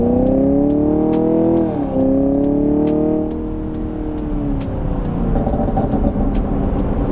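A 2021 Chevrolet Camaro 2SS with the 1LE track performance package accelerates hard, its engine revving up loud and close, dipping briefly at a gear change before climbing again, with faint ticking over the engine note.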